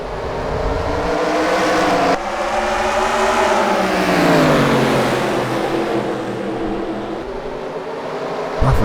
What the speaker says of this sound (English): green flag here in Lake Erie for the first race of the PRL Advanced Auto Parts Heat Series